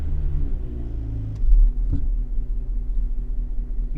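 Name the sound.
1991 Honda Civic EF car engine running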